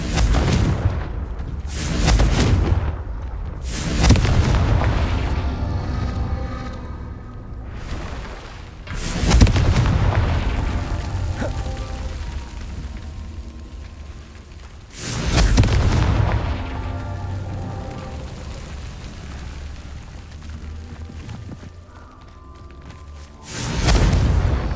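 Repeated heavy booming blasts from the Confringo fire spell in the game Hogwarts Legacy, several loud explosions spaced a few seconds apart with rumbling decay and game sounds between them.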